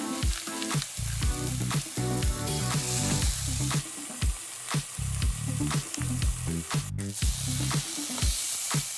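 A burger patty frying in a hot buttery pan, a close steady sizzle punctuated by repeated sharp scraping and clanking knocks from a utensil against the pan.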